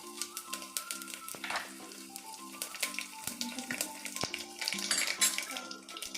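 Mustard seeds, cumin and crushed garlic fry in oil for sambar, a close crackling sizzle with scattered pops and spoon clinks against the pan, moderately quiet and without talking.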